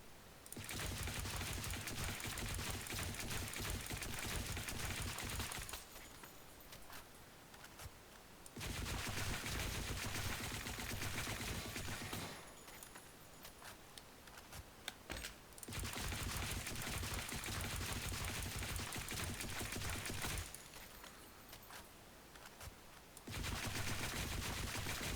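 Rifle fire from a gun game's weapon test comes in three long automatic bursts, each several seconds of rapid, steady shots, separated by short quieter pauses with a few scattered clicks and single shots.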